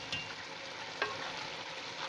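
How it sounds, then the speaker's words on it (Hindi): Moringa flowers fry in mustard oil with curd, tomato, green chilli and raw onion, making a short, steady sizzle with a couple of quick stirring scrapes. "दही, टमाटर और ये एंड में मैं ये सब्ज़ मिर्च और कच्चा प्याज डाल रही हूँ।"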